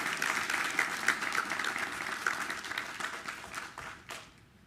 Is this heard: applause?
yes